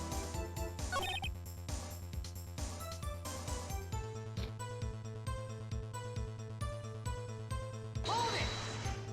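A telephone rings in the courtroom video game Phoenix Wright: Ace Attorney, its repeated electronic tones pulsing steadily over looping game music, with no voices.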